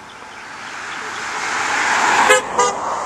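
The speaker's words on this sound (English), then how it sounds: "How many honks do we have?" Car horns honk from passing traffic on a roadside, two short toots near the end over a rising hiss of approaching cars.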